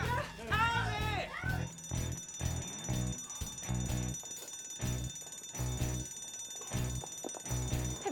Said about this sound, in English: folks, that's the fire alarm.